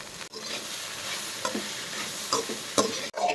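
Onion and garlic frying in a pan for chicken with vegetables, a close, steady sizzle with scattered stirring scrapes and a couple of sharp utensil knocks, no voices.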